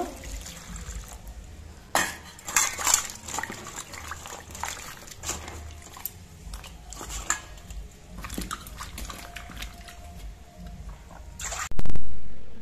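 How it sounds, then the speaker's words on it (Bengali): Eggplant pieces are rinsed under running water in a kitchen, a steady trickle and splash with scattered clinks and knocks, ending in a louder rush of water near the end. "এবার বেগুনের পিসগুলো আমি ধুয়ে পরিষ্কার করে নেব।"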